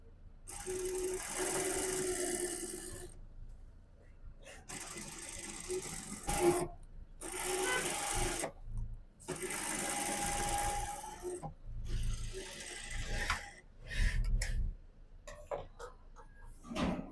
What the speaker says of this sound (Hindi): सीधी साइड पे रख के हमने सिलाई लगानी है।